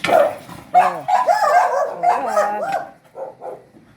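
A dog barks, yips and whines at the neighbour's pet, close and loud, in a quick burst of several barks that trails off into softer whimpers.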